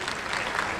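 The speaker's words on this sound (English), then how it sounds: "a round of applause for Cynthia," Audience applause at a legal representation event, a steady, dense clapping that fills the whole brief moment with no pauses.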